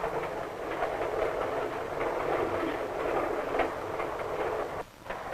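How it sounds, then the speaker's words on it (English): A vintage passenger train speeds along the rails at dusk, a steady, loud rolling rumble with faint clickety-clack that holds throughout, with a brief dip near the end. "While the train speeds into the dusk"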